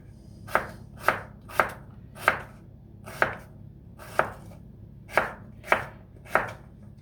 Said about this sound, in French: Donc voilà comment il faut les couper.